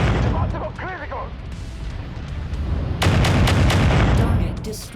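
A target blows up in the MechWarrior 5 Mercenaries video game, a loud sudden burst of explosion noise followed by crackling, rumbling debris, after a stretch of someone speaking over game sounds.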